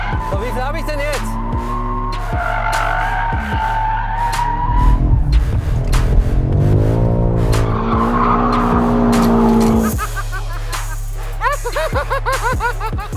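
A car drifts with loud, sustained tire squeals and a revving engine, the screeching rising and falling, with brief voices underneath.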